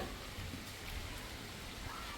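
Rain falls in a steady, faint hiss of drops over the whole stretch, with no clear voices on top.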